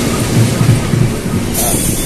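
A train rumbles past nearby, a loud steady rolling roar with low rhythmic thumps, ending in a brighter hiss of wheels and air. Heard from beside the tracks on a commuter line near Manggarai station, Jakarta.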